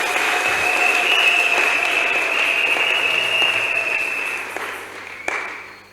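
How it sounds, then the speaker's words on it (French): Audience applause at a district office installation ceremony, a dense, sustained wash of clapping that holds steady, then thins and fades toward the end, a few louder claps standing out near the close. "Vous pouvez acclamer, il n'y a pas de problème."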